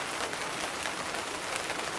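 Mild rain falls outside, a soft, steady hiss with faint scattered drops, continuous and even throughout with no voices.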